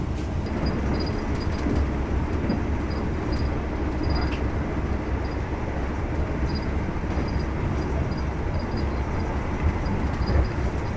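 Onboard the KA Anggrek passenger train between Bekasi and Jatinegara stations, a continuous steady rumble and roar of the moving carriage with faint rhythmic clicks, no talk.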